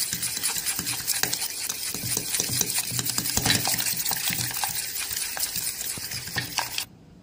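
Coffee cup cake batter beaten briskly in a bowl, a rapid run of close clinking and scraping strokes that keeps going steadily, then stops abruptly near the end, no voices.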